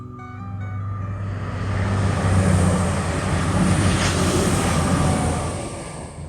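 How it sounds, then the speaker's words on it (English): A train passes on a railway line near the Kelmarsh Tunnel outside Market Harborough, its rumble building to a loud, broad roar that holds for several seconds before easing off. "Hang on a second, there's another train."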